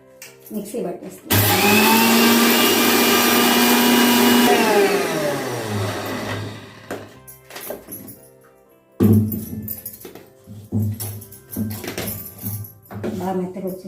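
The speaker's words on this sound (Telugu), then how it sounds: "ఇప్పుడు అటుకులు మిక్సీకి వేసుకుందాం." A mixer grinder grinds poha (flattened rice) for jaggery laddu in a loud, steady whir lasting about four seconds, then winds down; afterward a person talks over faint kitchen clatter.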